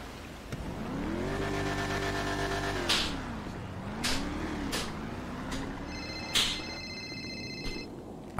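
A phone ringback tone sounds while a call is dialed, a steady stacked tone lasting about a second and a half. Car engine noise rumbles and revs underneath, with a few sharp bursts and beeps following.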